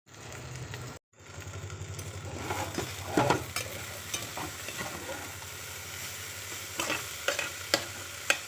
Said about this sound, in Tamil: இடையில இடையில ஃப்ரை பண்ணி விட்டுட்டே இருக்கணும் இல்லாட்டி அடி பிடிச்சிரும்